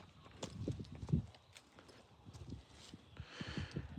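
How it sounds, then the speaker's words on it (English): Hooves clip-clopping on the ground at a distance, an irregular, uneven patter of several horses moving around, fairly faint with soft outdoor ambience. "I can hear some horses running around, Joda."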